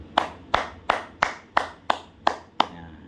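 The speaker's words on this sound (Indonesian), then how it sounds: "tepuk tangan untuk kekasihnya Sembara sama Mas Joko dulu" Eight sharp, evenly spaced claps sound in a steady rhythm, close and distinct. They come from a small audience at a lecture-style gathering, with no talk over them.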